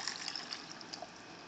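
Basic white cream sauce is poured back into a pot on the stove, making a steady liquid splashing and trickling sound that is fairly quiet and continues with no voices heard.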